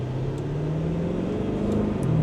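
A Lamborghini Urus S accelerates, its engine a steady, close, rumbling drone heard from inside the car.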